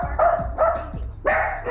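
A small dog barks repeatedly indoors, about four sharp yappy barks at a steady rhythm, close and loud, with no one talking over it.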